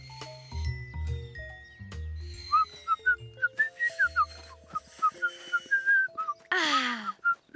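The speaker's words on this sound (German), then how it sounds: "Ihr drei pfeift ja lustig mit euren Safttüten." Children blowing through empty juice cartons to whistle, producing a run of short, bright, squeaky whistle notes in quick irregular succession with rustling and thumps, ending in a longer warbling whistle.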